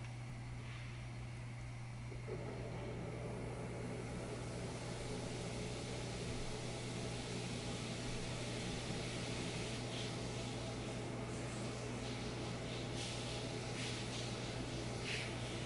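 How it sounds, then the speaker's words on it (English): A steady, faint hiss of running water carries on throughout, like a shower in another room, with a low hum beneath it. "if you hear a shower in the background,"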